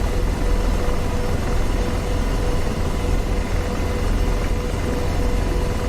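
An AH-64D Apache helicopter's rotor spins in the DCS World combat flight simulator, a steady, loud, broadband whooshing drone that holds evenly throughout with no talking.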